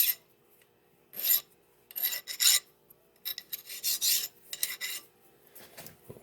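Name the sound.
filing burrs off a metal part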